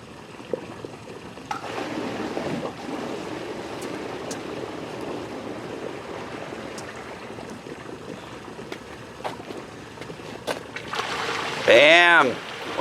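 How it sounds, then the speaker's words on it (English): Water from a backyard pond's waterfall runs steadily after the pump starts, following a spring cleanup, a constant rushing wash heard close up with a short louder burst near the end. "Bam! We have a waterfall."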